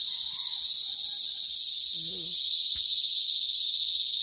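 A dense, steady chorus of crickets chirping loudly and continuously, with a brief faint voice-like sound and a soft knock partway through.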